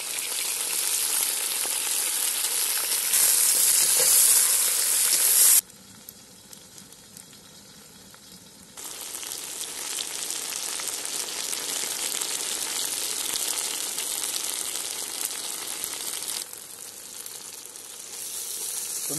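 Loud, steady sizzling of onion and chicken frying in hot oil in a cauldron over a campfire, continuing for a long stretch with a brief quieter gap partway through.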